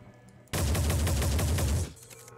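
Soldiers fire a rapid, loud volley of gunshots in the sci-fi tactics game Phoenix Point, a dense burst lasting over a second before fading into quieter ambience.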